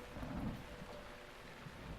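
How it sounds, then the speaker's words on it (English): Thunderstorm in the video game The Legend of Zelda: Breath of the Wild, a steady wash of rain with a low rumble of thunder swelling early and lingering beneath, continuous and fairly soft with no talk. "And we have our first example of a thunderstorm here."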